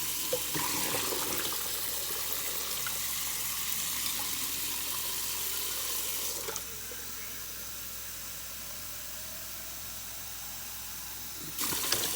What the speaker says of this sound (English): Okay, so I rinsed off the seeds